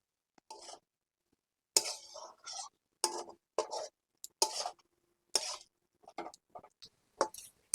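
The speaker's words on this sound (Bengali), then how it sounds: "চিংড়িটা মশলার সাথে ভালো করে কষিয়ে নেব" Prawns stir-fried with spice paste in a pan for a Bengali prawn moong dal, heard as bursts of spatula scraping, clinking and sizzle separated by short quiet gaps.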